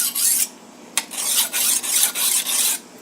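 A kitchen knife is drawn across a sharpening stone in a steady series of about six close, loud rasping strokes, each roughly half a second long with brief pauses between them.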